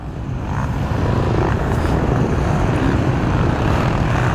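Steady, loud rotor and engine drone of a helicopter overhead, constant throughout with no voices.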